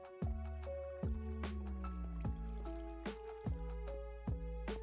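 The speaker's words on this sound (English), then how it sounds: "Why do I hear water?" Water dripping steadily indoors, like a leaky pipe: clear individual drops falling about once a second, each a short plinking splash with a ringing tone, fairly quiet.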